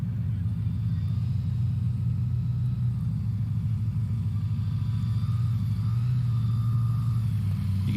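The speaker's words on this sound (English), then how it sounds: "Just hear him milking the throttle, nice and gentle, so controlled, almost effortless" A STOL competition aircraft's engine drones steadily and fairly loudly, a low, even rumble with only gentle swells as the throttle is eased up and down.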